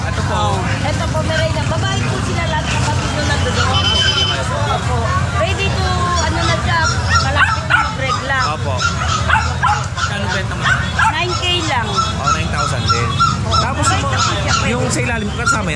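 Several Pomeranian dogs bark and yip in quick, high, overlapping bursts nearby, mixed with whimpers amid people talking and a busy background babble.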